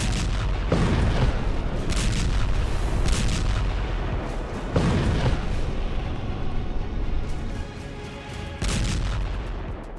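Israeli airstrike explosions in a news animation land as repeated deep booms and rumbling blasts, several heavy impacts over a continuous roar, loud and close with no talking.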